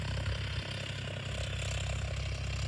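A tractor engine runs steadily in a farm field near Pune, softening the soil before sowing; a faint, continuous mid-pitched drone at a distance, with no speech.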